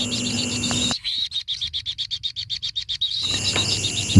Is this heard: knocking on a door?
no